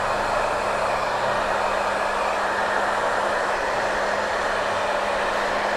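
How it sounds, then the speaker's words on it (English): Hair dryer blow drying a man's hair with a round brush at a barbershop, a loud steady broadband whoosh running continuously and alone, with a faint low motor hum underneath. "when we blow dry the hair, it should start to take some shape"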